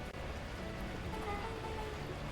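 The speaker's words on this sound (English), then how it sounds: "At that moment, the heavens opened up, unleashing torrential rain." Torrential downpour in the video game Beacon Pines, a steady, soft wash of rain hissing evenly throughout without a break.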